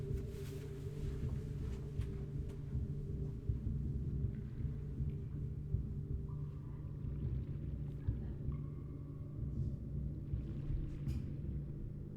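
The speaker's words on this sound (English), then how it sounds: "There is a thunderstorm." Thunder from a thunderstorm, a low continuous rumble that rolls on steadily for many seconds, distant and muffled, with no talking over it.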